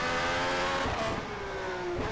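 Race car engine in rFactor 2, a McLaren M23 or Ferrari 312T at the modern Zandvoort layout, screams loudly and steadily at high revs, its pitch shifting as it accelerates and changes gear, with no talking.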